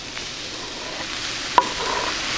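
Chopped garlic and tomatoes going into a hot paella pan, a steady close sizzle and hiss with one brief sharp clink partway through, no talking.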